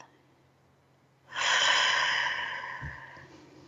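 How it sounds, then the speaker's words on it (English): A single deep, slow breath, exhaled audibly and steadily through the mouth during a calming breathing exercise, loud and close, lasting about two seconds with a soft tail at the end. "Take another breath."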